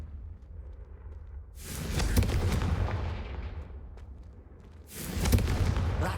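Confringo fire spell in Hogwarts Legacy blasting candelabras, two loud fiery bursts a few seconds apart, each a crackling roaring blast that trails off, with a low rumble between.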